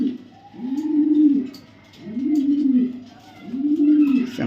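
Danish pigeons cooing close by: three rolling, throaty coo phrases in a slow, even rhythm, each swelling and fading, with no talk over them.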